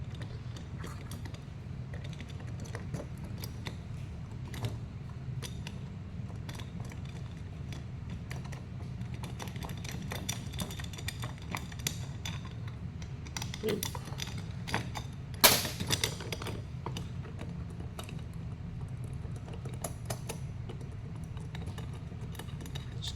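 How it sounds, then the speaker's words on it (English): A 7/16 wrench backing out studs from an oval deck plate, faint, irregular metallic clicks and creaks up close under a low steady hum, with no voices. "Now we're going to take our 7/16 wrench and we're going to back out these studs."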